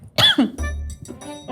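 A person with a sore throat gives a quick rough cough and clears the throat, close and fairly loud, followed by a brief voiced sound.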